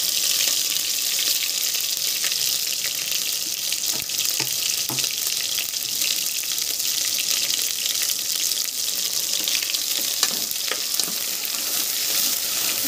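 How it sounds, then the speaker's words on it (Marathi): Stuffing paste for a chicken rassa hitting hot oil in a pan, a loud, dense, continuous sizzle up close with occasional small knocks, unbroken and without any talk. "तर आता तेलमध्ये आपण जे सारण आहे ना ते घालून घेऊया"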